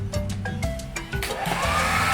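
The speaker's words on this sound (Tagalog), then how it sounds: "Ito may katabi kong blower. Si blower, parang hindi ganun kaingay." A hair blower running steadily and fairly quietly nearby, its airflow hiss rising toward the end, with brief clicks and tonal whines as it is handled.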